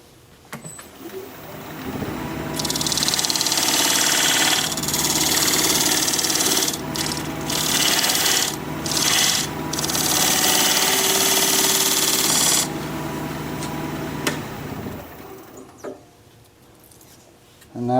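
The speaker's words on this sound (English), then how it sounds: "I'm going to use this diamond point tool to create flat sides or straight sides on the tenon" A diamond point tool scrapes a wood tenon on a spinning lathe, producing a loud, steady cutting hiss over the motor hum, with brief pauses between passes before the lathe winds down.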